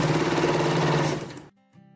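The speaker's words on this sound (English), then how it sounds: "continue sewing" A sewing machine stitches a kimono dress in a steady, loud, close whir that runs for about a second and a half, then stops abruptly, leaving only faint mechanical clicks.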